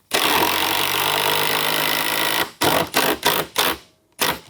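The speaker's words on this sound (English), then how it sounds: "Let me get that fastener in." A drill drives a fastener in with a sustained two-second whir, followed by a series of short, punchy bursts as the screw is seated, close up with no talking.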